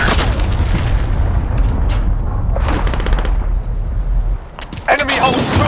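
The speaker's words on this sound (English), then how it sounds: "Enemy cruise missile incoming." A cruise missile strike lands in a Call of Duty: Modern Warfare multiplayer match: a loud, deep rumbling blast with gunfire-like bursts rolls on for several seconds, then drops off and flares again briefly, with voices partly over it.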